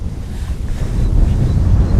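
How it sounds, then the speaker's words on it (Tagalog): Steady wind blows outdoors at the end of a creek in Calumpit, Bulacan, buffeting the microphone with a continuous low rumble that grows a little stronger midway. No one talks. "Sarap ng hangin, no?"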